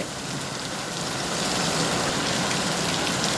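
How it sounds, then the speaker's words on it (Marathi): Loud, dense downpour of heavy rain with wind during a storm, a steady broadband roar that swells slightly, no voices. "पाऊस खूप जोरात आहे"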